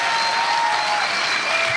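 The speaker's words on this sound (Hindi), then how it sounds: "आइए उसके लिए जोर से ताली बजाएं" A church congregation claps loudly and steadily, a dense, even wash of applause with no voices above it.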